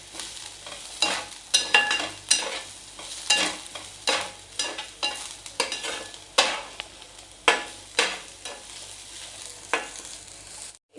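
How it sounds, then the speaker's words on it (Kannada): Kolhapuri misal curry with ginger and garlic in a pan, giving a steady sizzling bubble broken by a regular series of sharp scraping stirs, close and fairly loud, with no talking. "ನೋಡ್ರಿ ಮಿಸಳ ಕುದಿಯತ್ತವು"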